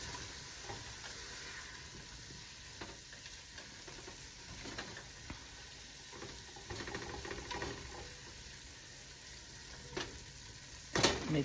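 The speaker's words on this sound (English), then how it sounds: "Stir this to coat our vegetables." Vegetables stirred in a pot for Irish lamb stew: a quiet, steady scrape and soft sizzle with faint patter, growing into a few louder clatters near the end.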